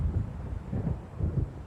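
Low rumbling thunder of an approaching storm in the video game Alan Wake, swelling in soft repeated rolls over steady wind noise, distant and fairly quiet.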